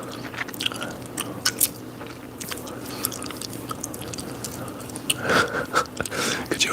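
Wet, open-mouthed gum chewing close to the microphone in an ASMR livestream, with steady smacking and squishing textures and occasional sharper crunches running throughout.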